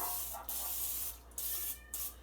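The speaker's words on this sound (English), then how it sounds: "I'm going to prepare my loaf pan with some cooking spray" Cooking spray misted into a loaf pan in a home kitchen, three short bursts of soft, close hissing spaced about a second apart, with no talk.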